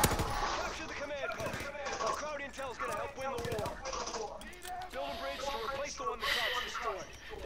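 Automatic gunfire from the video game Call of Duty WWII rattles in rapid, continuous bursts throughout, mixed with game sound effects while players talk over it.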